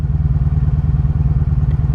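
A 1983 Honda Sabre V45 VF750S motorcycle idling up close: a steady, even V4 engine pulse with a low, quiet exhaust rhythm, heard alone.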